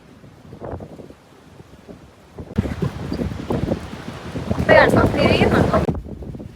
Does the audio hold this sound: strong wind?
yes